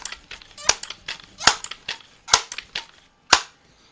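A Crosman 2200 Magnum .22 pump air rifle, pumped five times, fires four sharp, fairly close shots roughly a second apart, with a few lighter mechanical clicks between them.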